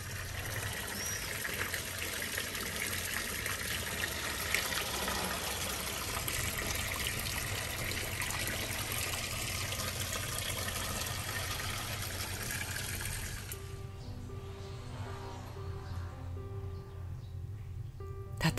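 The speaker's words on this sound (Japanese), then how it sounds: "この水音は聞こえますか" Water trickles and splashes steadily in a jasmine-covered hotel courtyard in Arles, a soft continuous flow that cuts out near the end, leaving a quieter room.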